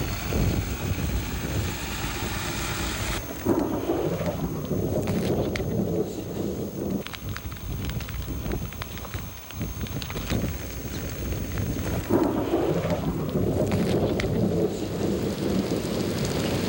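Heavy rain pours on a farm during a thunderstorm, and rolling thunder booms twice over the steady downpour. No one speaks.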